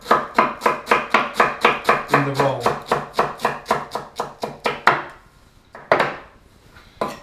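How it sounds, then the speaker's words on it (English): A knife finely shreds an ingredient for chicken khaati rolls on a board, a quick steady run of about twenty crisp, close chops that stops, then one more cut and a brief scrape after a pause. "and then just finely shred it"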